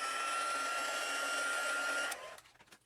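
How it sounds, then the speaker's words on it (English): A heat tool or dryer blows loudly and close while drying a brush-blended craft background, a steady whirring hum for about two seconds before cutting off, followed by faint handling sounds. "I'm going to use my dryer real quick, or my heating tool, because I want that to dry"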